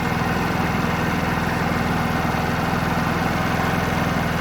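A warmed-up 50cc petrol scooter engine idles close by, a steady, even putter with a low throbbing pulse that never changes in pace or loudness.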